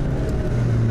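A 35-year-old Toyota AE86 Hachiroku tuned car holds a steady, droning engine note under load while driving, heard from inside the cabin, continuous and fairly loud.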